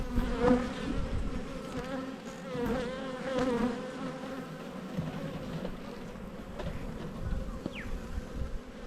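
Honey bees swarm around an opened hive during a spring inspection, giving a dense, continuous buzz with wavering pitch that hums close by, with no voices over it.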